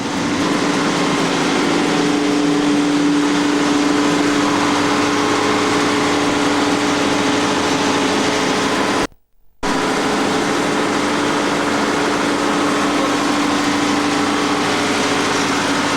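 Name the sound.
ship's generator running in engine room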